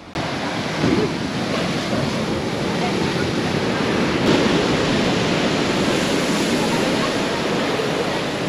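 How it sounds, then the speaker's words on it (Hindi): Rough sea waves crash and surge steadily at Hawksbay Beach in Karachi during stormy conditions, a continuous loud roar of surf and wind close by with no talking over it. "समंदर बहुत खतरनाक है, अभी मैं आगे भी नहीं आ रहा हूँ, ऐसा उठा के फेंका भी है, देखें आप इतनी लहर आई है।"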